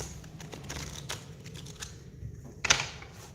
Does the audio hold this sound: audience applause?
no